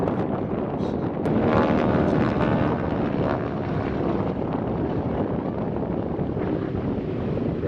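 A vintage propeller aircraft flying at an air show at Illawarra Regional Airport, producing a loud, continuous engine drone and rush, with wind buffeting the microphone throughout.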